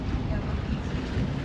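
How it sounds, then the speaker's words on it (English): Hallberg Rassy 44 sailboat motoring toward Olbia, a brief steady low rumble of engine and water rush mixed with wind buffeting the microphone. "motoring into Olbia"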